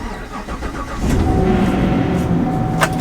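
A car with a traditional key ignition cranks briefly, then the engine catches and settles into a loud, steady idle close by, with no talk over it.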